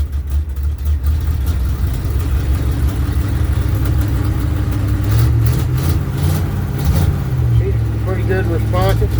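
The engine of an older piece of equipment runs steadily after a fuel tank repair with trash in the tank, a loud low rumble with slight revving toward the middle, while someone talks over it.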